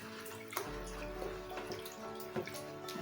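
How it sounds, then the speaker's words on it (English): Sulfonic acid being poured into a caustic soda solution while making transparent liquid soap, giving a steady, fairly quiet liquid pour with small splashy accents and no talking. "let's add our sulfonic acid into the caustic soda"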